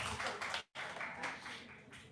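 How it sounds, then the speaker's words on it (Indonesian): An audience at a seminar on handling Gen Z gives a burst of applause for Mas Faiz: dense, steady clapping throughout, broken by a split-second silent gap partway through. "tepuk tangan buat Mas Faiz"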